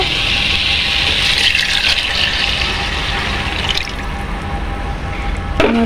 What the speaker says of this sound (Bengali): ছয় পট পানি দিয়ে দিব